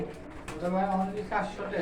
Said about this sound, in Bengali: এটা দেখিচ্ছি হচ্ছে লাল কালার কবুতর